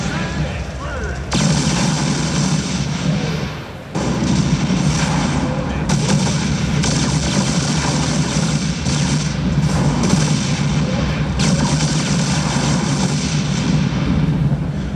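Viking tactical fighter in StarCraft 2 firing missiles: a dense, continuous barrage of booming, rumbling weapon fire and blasts throughout, loud and close, with brief dips in intensity.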